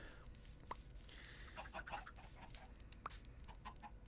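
Chickens cluck in a farming video game, soft, close clucks and a couple of sharp chirps over a quiet, constant background hum.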